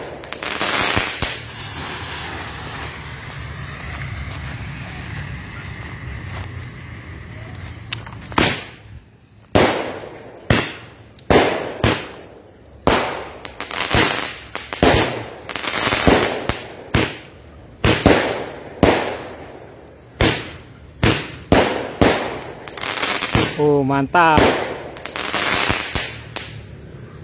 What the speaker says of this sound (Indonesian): Itu dia tadi mercon Roman Candle-nya